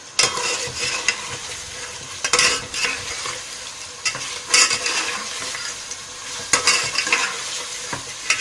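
Chicken for Sindhi biryani sizzles and fries in a pot, with repeated scraping stirs of a utensil cutting through the steady crackle.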